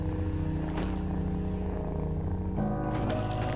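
A sleeping cat in the physics puzzle game Time Loader purrs in a steady, low, rumbling drone that continues without a break, close and fairly loud, and shifts slightly in tone partway through.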